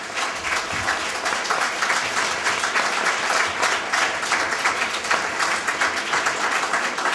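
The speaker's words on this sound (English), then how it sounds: "So please give them a round of applause." Sustained applause from an audience for young participants at a community gathering of African American organizations, dense and steady clapping with no talk over it.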